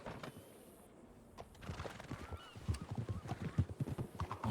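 Horse hooves clip-clopping in a video game, a faint rhythmic patter of steps that grows louder and steadier over a few seconds, heard alone without talk.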